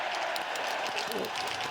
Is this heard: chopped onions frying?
no